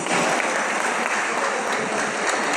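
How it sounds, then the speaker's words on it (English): Steady audience applause at a coaches' refresher course event, a thick, continuous patter of many hands clapping throughout, loud and even with no pauses. "A round of applause, please."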